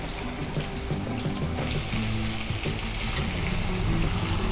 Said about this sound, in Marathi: आपली लसूण लाल अशी झाली पाहिजे, पहा लालसर झाले। आता मी कांदा टाकून घेते।